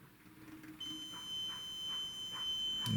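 A multimeter continuity tester sounds a steady high-pitched electronic beep while probing the switches and DC motor of an ARC AS-895A altitude sensor. The tone comes in after a short quiet pause, holds continuously, and stays faint.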